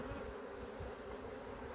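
Honeybees droning steadily around an opened hive during a honey harvest, a continuous close buzz with no voices.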